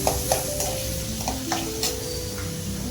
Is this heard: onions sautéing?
yes